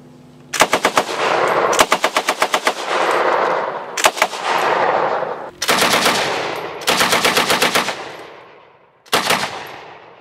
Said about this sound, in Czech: Pravý kulomet, 15 ran, pal.